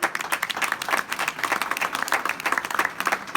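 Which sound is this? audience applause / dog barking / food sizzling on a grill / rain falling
audience applause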